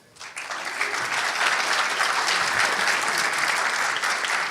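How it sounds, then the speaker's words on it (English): A conference audience at a Python talk bursts into applause, a dense, steady wash of clapping that swells quickly and holds for several seconds. "Please, a round of applause."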